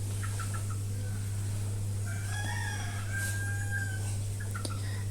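Young cockerel chicks cluck and chirp in short bursts, close by, over a steady low electrical hum.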